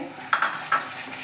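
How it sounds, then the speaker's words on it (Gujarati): Yogurt being stirred quickly into bottle gourd kofta gravy in a pan over high heat, with two sharp spoon scrapes against the pan over a faint background sizzle. "હવે આને સતત હલાયા કરવું પડશે નહીંતર આના ફોદા ફોદા થઈ જતું હોય છે"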